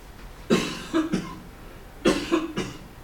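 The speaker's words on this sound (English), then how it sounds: "Cough has gotten worse." Two short bursts of coughing, each a quick pair of harsh coughs, close to the listener with a brief quiet gap between them.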